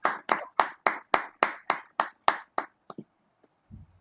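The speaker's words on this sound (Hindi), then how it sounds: "एक बार तालियां बजा दें" Slow, evenly spaced sharp claps, about ten in a row, close and crisp, then a few scattered softer taps before silence.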